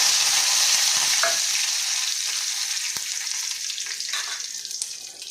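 Loud, steady sizzling of whole spices (cinnamon, cloves, cardamom, cumin, fennel) frying in hot oil, with an occasional stir or clink and no talking.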